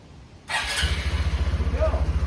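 A Honda Trail 125 motorcycle starts up after a brief starter whir and settles into a loud, close idle with a steady low pulsing beat.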